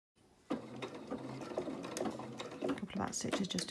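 Sewing machine running back stitches to finish a seam on fabric for a doll head wrap, a quick whirring burst of stitching after a brief start, close and fairly soft.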